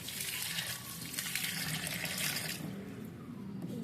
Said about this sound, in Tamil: இப்போது டேப் ஓப்பன் பண்ணி நல்லா வாஷ் பண்ணி எடுத்துக்கலாம்